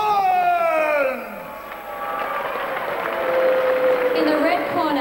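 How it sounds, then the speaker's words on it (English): Crowd at a fight event applauding and cheering for fighter Daniel Collins, steady loud clapping and shouts filling the hall beneath a booming announcer's voice. "Let's have a big fight round of applause for Daniel Collins!"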